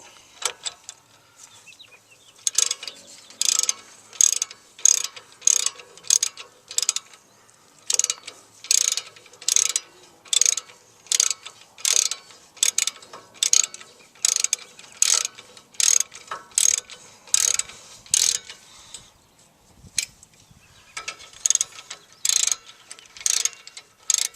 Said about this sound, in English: then you just tighten them up with your socket